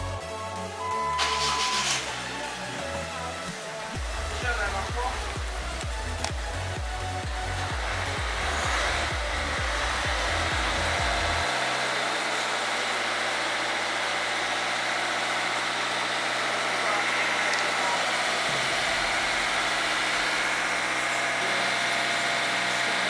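A car engine runs during EGR system cleaning, first with a low pulsing throb that fades after about eleven seconds, then settles into a steady, broad mechanical hum and hiss at close range with no talking.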